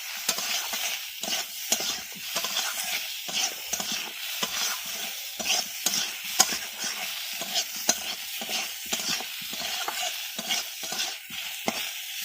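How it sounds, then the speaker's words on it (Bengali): Boiled taro frying in a pan is stirred steadily, with rhythmic scrapes and spatula clicks over a continuous close sizzle throughout. "ভালো করে নাড়াচাড়া করে নিচ্ছি"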